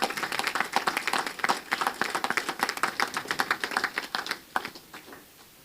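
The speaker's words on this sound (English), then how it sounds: "Can we please give them a hand of applause again?" An audience at a civic reception with Jamaica's High Commissioner claps for two women, a lively burst of many hands at moderate distance that thins out and fades near the end.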